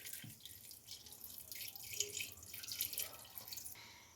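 Water from a glass poured into a pan of keema cooking with chili powder, turmeric and ginger-garlic paste, a steady close splashing and trickling pour lasting several seconds with no talk.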